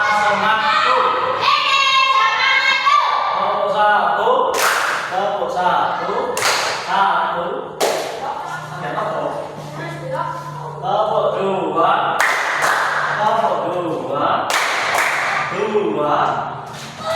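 A classroom of fourth-grade children claps in a patterned three-beat cheer, sharp loud claps repeating in bursts among children's voices and talk.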